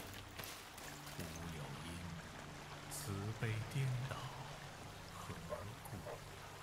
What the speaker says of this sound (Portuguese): Gente ouve um barulho de uma água corrente